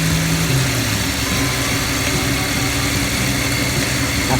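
Jeep Grand Cherokee WJ engine idling after power steering line and oil sender work, a steady low rumble with constant vibration, close and even, no talk.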